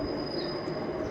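A steady rumble of an airport-line metro train passing close by near Dum Dum Cantonment, with a continuous high-pitched whine above the rolling noise.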